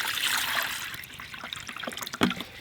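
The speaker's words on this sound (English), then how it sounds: "pour in water" Water is poured into the reservoir of an EcoFlow Glacier portable ice maker, a short splashing trickle that fades and then ends with a small clunk.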